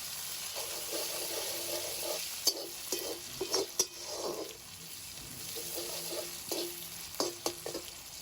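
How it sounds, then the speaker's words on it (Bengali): Onions frying in oil in a pan make a soft, steady sizzle, broken by irregular clacks and scrapes of a stirring spoon, close by and moderately quiet, with no talking. "লাল লাল করে ভেজে নেব"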